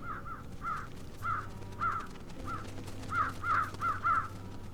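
Crows cawing on a TV antenna in the video game Truberbrook: a steady series of repeated harsh caws, some doubled, sounding at a regular pace over a low ambient hum, moderately loud and close.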